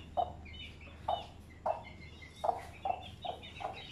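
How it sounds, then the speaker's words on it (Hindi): A hen clucks in short, evenly spaced calls, about seven in a row, faint against a quiet farmyard hum with no voices. "मुर्गी बाहर निकलने के लिए आ रही थी तो मुर्गी बाहर आ गई"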